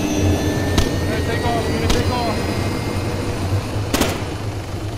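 Engine of a helicopter in a video game, a steady loud drone throughout with a few sharp broadband bursts, heard under players' voices talking.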